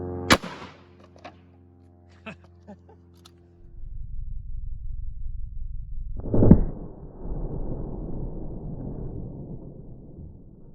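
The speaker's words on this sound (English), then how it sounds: "Firing." A home-defense round is fired into a row of boards, producing one sharp, loud report with a brief ring at the start, followed later by quieter thuds and rustling.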